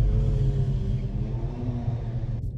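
A car drifting at a drift shoot, its engine roaring loud and steady with a deep low rumble throughout and a slight drop near the end.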